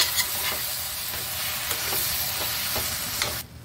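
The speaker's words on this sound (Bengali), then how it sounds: "একটু কসুরি মেথি দিয়ে দেবো। তারপরে আবার একটু নাড়াচাড়া করবো।" Bhindi masala with kasuri methi stirred in a pan: a steady close sizzle with regular scraping strokes about every half second, no voices.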